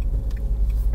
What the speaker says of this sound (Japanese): ゴーッとエンジンが回転する音が聞こえる